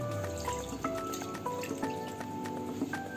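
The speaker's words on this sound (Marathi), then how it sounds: "कढई गरम करायला ठेवलेली आहे, त्याच्यात आपण पाणी घालू।" Water is poured into a heated kadhai on the stove, making a close trickling and dripping sound with a few short ringing tones. No one speaks.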